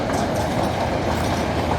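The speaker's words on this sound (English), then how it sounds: "focus on the train." A train rolling steadily along the rails on a journey from Chennai toward Sri Lanka, a dense continuous rumble with faint clickety-clack, loud and close throughout, no voices.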